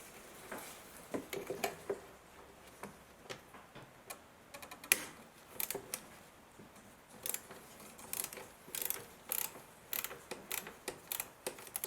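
A ratchet clicks in quick bursts of sharp ticks while nuts and bolts are undone on a Toyota Yaris Verso 1.3. It is close but fairly quiet, with short pauses between the runs of clicks and no talk.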